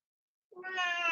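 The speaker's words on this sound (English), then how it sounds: "And I hear the kitty coming." A house cat gives a single drawn-out meow, close and clear, rising in after a moment of silence.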